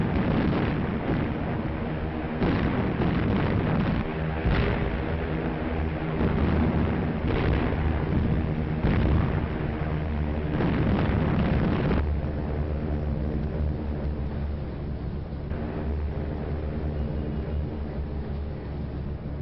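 Bombs exploding during wartime air raids on Malta, a British stronghold pounded by German and Italian aircraft, heard as a dense, continuous roar with repeated heavy bursts and rumbling blasts, loud throughout and without voices.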